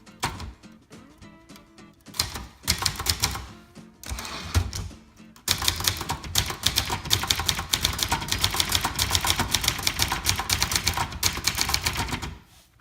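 Rapid clacking keystrokes of a 1978 Brother Charger 11 manual typewriter, sporadic at first, then a fast continuous burst of typing that stops abruptly.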